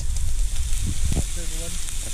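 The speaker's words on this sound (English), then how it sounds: "Sizzling." Corn, beans, hot dogs and steaks sizzle and crackle over an open campfire by a river, a steady hiss with pops, while a voice briefly speaks in the background.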